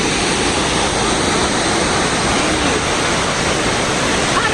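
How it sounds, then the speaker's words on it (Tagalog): Santa Cruz Waterfalls in Lanao del Norte pour with a loud, steady broadband roar of falling water, unbroken throughout and close by. "Santa Cruz Waterfalls"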